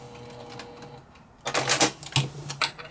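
A sewing machine stitching a quilted fabric potholder starts as a faint mechanical hum, then breaks into a loud, rapid rattling run of stitches with brief pauses, heard up close.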